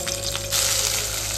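Hot oil sizzles in a pan while tempering boiled pasta, a short, steady crackling hiss that grows louder partway through.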